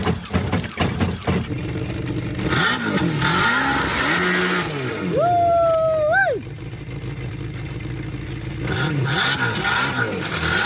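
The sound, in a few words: jet boat engine running and revving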